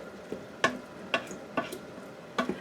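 A spoon stirs spaghetti bolognese laced with balsamic vinegar in a pot, giving four or five sharp scraping knocks at an irregular pace over a faint background, close by.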